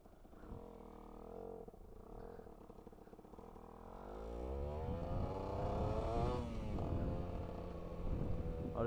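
Supermoto motorcycle riding, a single-cylinder engine note rising and falling as the bike accelerates, steady and fairly close, growing louder partway through under wind noise.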